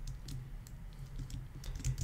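Quiet clicking of keys on a computer keyboard, a short run of light, irregular taps close by with no voices.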